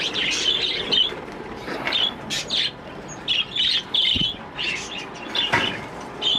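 Around twenty birds in an aviary chirp and squawk loudly in repeated shrill bursts close by, with brief wing flaps and some bumping between calls.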